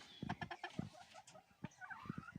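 A blue face gamefowl brood stag clucks in a short series of close, loud clucks, pausing briefly, then clucking again alone near the end.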